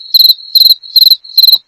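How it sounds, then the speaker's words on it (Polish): Cuban cricket chirping in four evenly spaced bursts of rapid pulses, each about a quarter second long and separated by short gaps, loud and close with no other sounds. "O, to jest świerszcz kubański, wiesz? Świerszcz. Słyszysz?"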